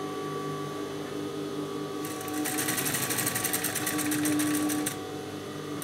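A sewing machine runs a fast, even stitch along thin chiffon for a narrow rolled seam. The rapid mechanical whirr starts after a quiet moment, runs loudly for about three seconds, then stops.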